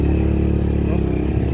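A Rusi motorcycle engine runs loud and close on a mountain road, a steady low rumbling drone with a slight clatter throughout.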